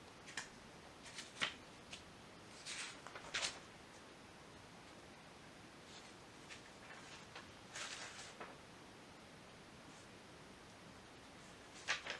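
Tarot cards are shuffled quietly at close range, with soft irregular riffles and taps in small bursts separated by near silence.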